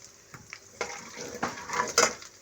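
Cumin, cardamom and small pieces of cinnamon frying in hot oil, a short bright crackling sizzle with a few quick pops and a spatula scraping the pan.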